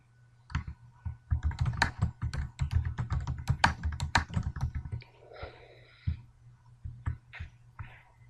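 Fast, close keystrokes clatter on a computer keyboard while PHP code is typed, a dense run of clicks followed by a pause and then a few scattered taps.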